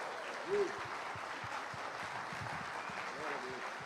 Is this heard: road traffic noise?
no